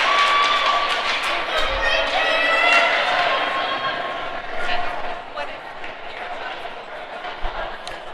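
Crowd at a 12U youth ice hockey game, LHA Black versus Fraser, cheering loudly at first and then easing into a busy murmur, with scattered claps, thumps and a commentator's voice over the noise.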